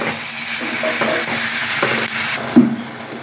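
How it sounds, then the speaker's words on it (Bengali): Ground spices such as Kashmiri chili and cumin frying with onion in a pan for a Bengali chicken and potato jhol, a steady sizzle with a few stirring scrapes and a brief knock near the end. "এবার দিয়ে আমি ভালো করে মশলাগুলোকে পেঁয়াজের সঙ্গে কষিয়ে নেব।"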